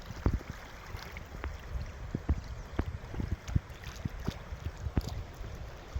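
The Tungabhadra river at Mylara village in Vijayanagara district flows steadily beneath a bridge, a continuous wash of running water broken by frequent sharp splashes and gurgles, heard close by with no voices.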